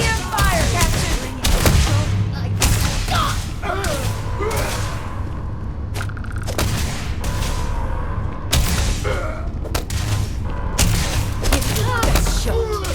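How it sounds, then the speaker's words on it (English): Spaceship EM weapons firing during a space battle in Starfield, a dense run of repeated booming blasts and thuds across the whole stretch, loud and close, with voices talking over the barrage. "EM fire, Captain!"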